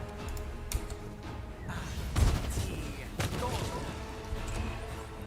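Magic missile spell impacts in Pathfinder: Wrath of the Righteous land as a sharp crash near the middle, followed by another heavy hit and thuds over a busy game background.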